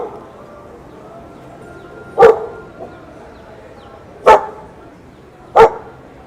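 Three sharp, separate dog barks from a dog on a Key West street, spaced a couple of seconds apart over a low outdoor background murmur.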